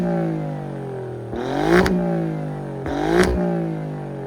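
An Alfa Romeo Giulia Quadrifoglio engine idles steadily, then is blipped twice, each rev rising sharply and falling back to idle, heard close with no talking.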